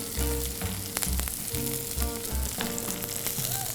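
Rosemary and garlic sizzle and fry in a pan in a chef's kitchen, a loud close crackle with a low rhythmic thumping underneath throughout, with no speech.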